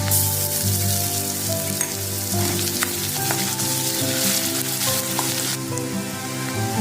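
Crushed ginger and garlic hit hot oil already holding onion and chilli, giving a loud, continuous sizzle and crackle with occasional stirring clicks, close up and steady throughout.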